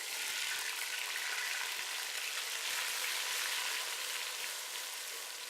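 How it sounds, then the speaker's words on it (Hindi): Ground onion and green chili frying in oil with whole garam masala for a Pakistani degi biryani, a steady, dense sizzle close by that holds evenly throughout with no talking. "प्याज को अच्छी तरह से फ्राई करेंगे।"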